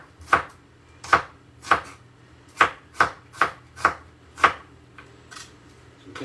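Knife chopping red onion on a cutting board, eight distinct crisp thuds in a loose, unhurried rhythm, close and clear with no talking.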